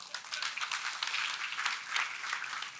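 A crowd at a political event applauds as former Prime Minister Tony Abbott walks out to the stage, a steady wash of clapping and cheering that sounds fairly distant and holds its level throughout.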